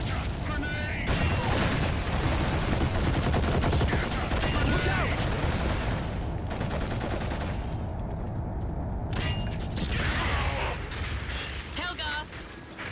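Gunfire in a Kane and Lynch shooter video game, with dense, loud, sustained bursts of shots and explosions filling the whole stretch and a voice faintly mixed in beneath.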